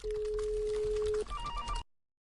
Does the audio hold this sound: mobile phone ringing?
yes